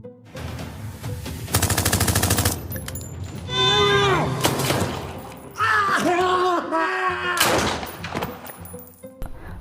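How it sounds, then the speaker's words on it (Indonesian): Machine guns fire in a Japanese mafia action film, with rapid rattling bursts and crashing impacts mixed with shouting, cries and dramatic film sound. "datanglah Honda yang membredel senapannya hingga menewaskan Yamaha"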